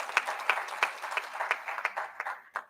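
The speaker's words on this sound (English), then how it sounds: "A bigger clap for Dr. Isaac." Conference audience applause for a doctor after a talk on blood pressure control: a smallish crowd claps in loose, fairly rhythmic bursts, moderately close, tapering off toward the end with no speech over it.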